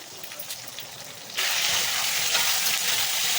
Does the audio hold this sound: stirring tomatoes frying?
yes